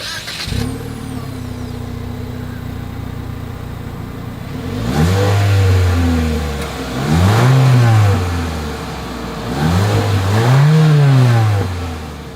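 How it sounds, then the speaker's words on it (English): A 2023 Mitsubishi Eclipse Cross compact SUV engine idles, then revs hard three times in rising and falling surges, loud and close to the exhaust. "As always, here is that exhaust clip."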